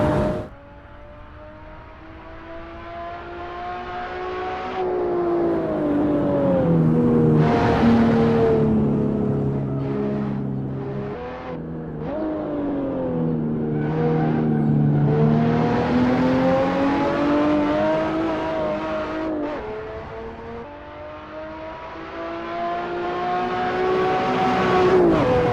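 BMW 1 M Coupe engine in a racing game, a sustained tonal drone that climbs and dips through repeated revs and gear changes, loud and continuous with no talking.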